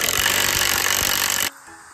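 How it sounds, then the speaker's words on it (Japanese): An impact driver loosens the nut on a grass trimmer blade with a loud, steady buzzing hammer and rapid regular impacts, then cuts off abruptly after about a second and a half. "でも、インパクト使わないでください。"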